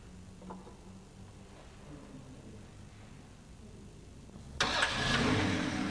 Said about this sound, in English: Run the engine until the transmission fluid flows from the hose.